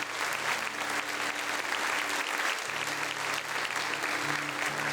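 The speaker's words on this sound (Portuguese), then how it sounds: "Vamos aplaudir a obra de Deus que está acontecendo aqui." Church congregation applauding together, a steady dense wash of clapping that fills the room at moderate level, with faint sustained tones underneath.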